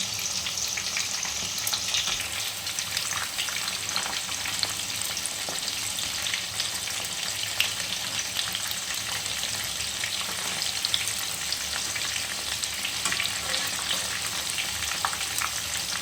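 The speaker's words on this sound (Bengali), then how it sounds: "এইভাবে হালকা হালকাভাবে ভেজে নিতে হবে" Soyabean chunks fry gently in a pan, an even, soft crackling sizzle that holds steady throughout, with occasional light stirring ticks and no voices.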